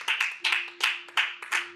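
Hands clap in a church congregation in a steady rhythmic beat, about five sharp claps in under two seconds, while a low sustained tone plays underneath.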